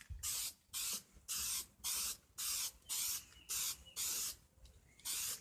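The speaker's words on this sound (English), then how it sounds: "That's called cheap spray paint." Cheap aerosol spray paint hissing from a can onto a dirt bike in about nine short, evenly spaced bursts, close and steady with brief pauses between, no talking.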